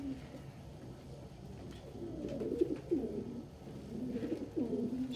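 A pigeon in a loft coos softly in low, rolling phrases, a few separate coos spaced over several seconds against a quiet background.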